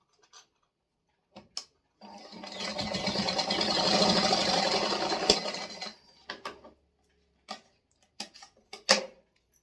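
A sewing machine runs in one steady burst of about four seconds, stitching a cloth garment for a deity idol. Brief clicks and handling taps come before and after it.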